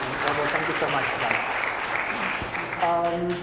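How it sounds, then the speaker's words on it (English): Dense, sustained applause from a conference audience fills the whole stretch, with a speaker's voice thanking them over the clapping near the end. "Can I request a round of applause for such an honest confession?"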